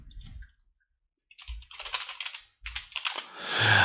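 Computer keyboard typing in short bursts of quick clicks, close and fairly quiet, with brief pauses between runs while folders are created for an ASP.NET Core project.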